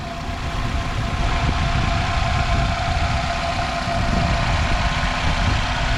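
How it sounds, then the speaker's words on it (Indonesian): A 2013 Nissan X-Trail Xtremer with automatic transmission, about 70,000 km on it, idles steadily for six seconds, giving a continuous low engine hum at constant level and heard alone with no talking. "Ini suara mesinnya masih halus,"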